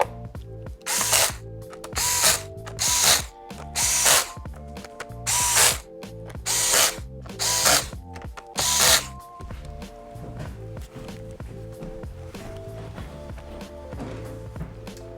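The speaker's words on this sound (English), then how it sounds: "And then tighten the screws." A screwdriver tightens the screws on a Lenovo 100E G3 Chromebook during an LCD replacement, giving a series of about eight close, rhythmic ratcheting bursts that give way to quieter handling noise.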